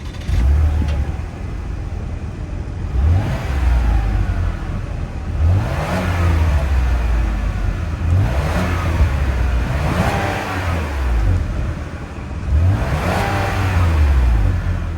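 A 2024 Chevy Blazer 3LT's 3.6 liter V6 engine revs repeatedly, rising and falling in several even pulls, steady and close with a deep throaty tone.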